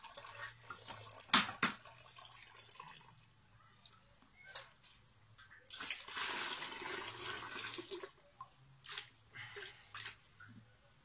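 Water rinsing out a 1983 Yamaha 125 DTMX motorcycle fuel tank during a sealing restoration, with close sloshing and splashing that builds into a sustained rush midway, plus scattered knocks.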